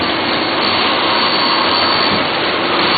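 A Duplo DC10000S booklet stitcher runs with its driver dropping but not stitching, giving a steady, loud, dense mechanical whir and hiss that holds level throughout with no distinct strokes or talk.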